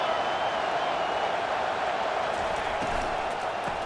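Stadium crowd roar in a Tennessee versus Texas A&M college football video game, a dense, steady wash of noise sustained without letup, loud and constant throughout.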